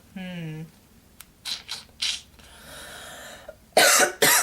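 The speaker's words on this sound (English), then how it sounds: "Let me cough first." A woman coughs a few times in short bursts in a quiet room, after a brief vocal sound, followed by some rubbing and handling noises and a louder final cough.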